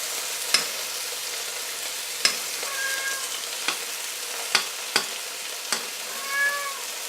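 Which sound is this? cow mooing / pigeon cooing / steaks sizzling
steaks sizzling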